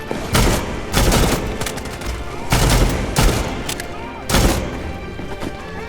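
Shotgun loaded with buckshot firing in the video game Far Cry 6, a series of loud booming shots spaced about a second apart over continuous battle noise and background chatter.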